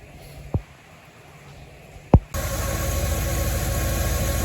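A car engine fitted with a 396 cam and a 402 Edelbrock intake is idling steadily and loudly after two sharp knocks, with no talking.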